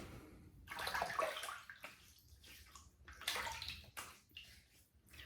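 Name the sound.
water splashing while wetting the face before shaving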